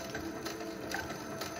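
Slot machine reels spinning on a high-limit Cash Machine game at $50 a spin, a steady mechanical whirring and ratcheting clatter that runs unbroken for the whole short stretch, close and fairly loud, with no voices over it.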